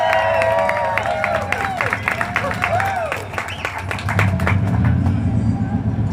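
An outdoor crowd at a Hollywood Walk of Fame star ceremony applauds and cheers, a loud dense clatter of claps with whoops, over the rumble of passing traffic and motorcycles, with a voice speaking over it.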